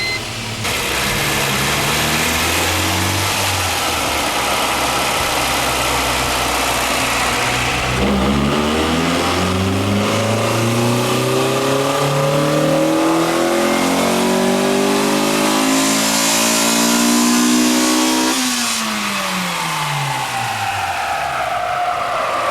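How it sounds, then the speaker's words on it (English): Honda car on a dyno revving hard up through the gears, engine note climbing in pitch repeatedly with a shift around midway and another near the end, loud and continuous throughout with no talk. "We then placed our trusty Honda back on the dyno for one last blast up the gears."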